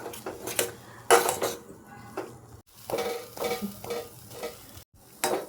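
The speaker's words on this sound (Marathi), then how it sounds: "खोबरा किस टाकल्यावर कंटिन्यू फिरवत राहायचं." Grated coconut modak filling, tinted with dragon fruit, being stirred in a pan over low heat: repeated loud spatula scrapes and clinks against the metal in uneven bursts, with brief pauses and a faint sizzle beneath, no voices.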